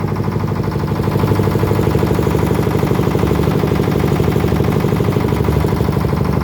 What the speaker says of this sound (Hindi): बोट के इंजन की आवाज़ इसके साथ में आप सुन सकते हैं।